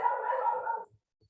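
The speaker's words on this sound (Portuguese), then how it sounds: "Aqui tem alguns cachorros latindo." A dog barks briefly in the distance, a short muffled burst of barking lasting under a second and then fading into quiet.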